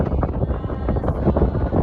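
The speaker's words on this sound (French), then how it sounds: "le vent qui est là" Wind in the Tunisian desert buffets the microphone in uneven, rumbling gusts, loud and close, with no talking.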